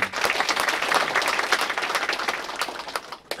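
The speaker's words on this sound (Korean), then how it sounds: "큰 박수로 환영해 주시기 바랍니다" Lively audience applause at a county community concert event, many hands clapping in a dense burst that gradually thins out near the end.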